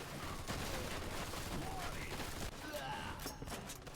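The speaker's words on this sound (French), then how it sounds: "on dirait qu'on a retrouvé la mitrailleuse" Machine gun fire in the video game Mafia 2, a dense sustained rattle of rapid shots with a player talking over it.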